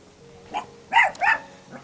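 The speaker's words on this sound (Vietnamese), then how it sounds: "Khi đến đây thì mình nghe tiếng có chó sủa nè." A dog at a rural Vietnamese family's gate barks three or four times in a quick ragged burst, moderately close and clear over quiet surroundings.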